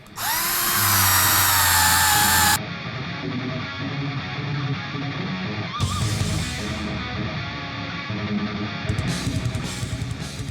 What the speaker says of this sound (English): using that roll-lock bristle disc, it's going to clean up extremely quickly